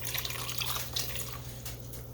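Water streams into a pot of dried pinto beans being cooked at home, a soft continuous splashing pour over a low steady hum, fairly quiet and close.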